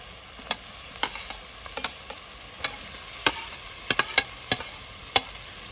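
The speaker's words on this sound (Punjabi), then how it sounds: "ਆਲੂ ਨੂੰ ਆਪਾਂ ਚੰਗੀ ਤਰ੍ਹਾਂ ਮਿਕਸ ਕਰ ਲੈਂਦੇ" Potatoes stirred and frying in a pan with toasted spices, a steady sizzle under repeated sharp scraping clicks of a spoon against the pan, fairly close, with no talking.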